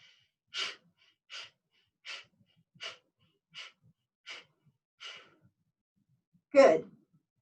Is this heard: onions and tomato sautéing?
no